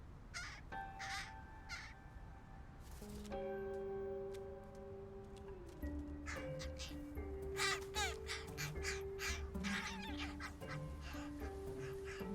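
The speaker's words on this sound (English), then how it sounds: "test crows, who hatched 2 weeks ago, are growing up fast" Young crows, hatched about two weeks earlier in Seattle, give repeated harsh caws and squawks amid clicking and tonal background sounds, fairly close but quiet overall.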